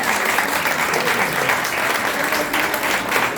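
Audience at a book presentation in Granada clapping together, a full, dense burst of applause close and loud that holds steady from start to finish.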